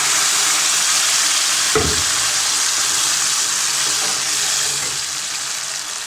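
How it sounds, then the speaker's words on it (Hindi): Ground greens dropped into a sizzling, browned onion and garlic tempering, with a loud continuous hiss of hot oil frying and a brief thud as the greens land, no talking. "ये जो प्याज और लहसुन का छोंका हमारा ये अच्छी तरह से ब्राउन हो गया है, इसमें डाल देंगे हम जो साग पीसा था वो"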